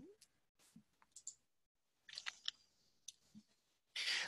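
A computer mouse clicks on links in scattered sharp, quiet taps, several spread irregularly over a few seconds, close and soft with no talk.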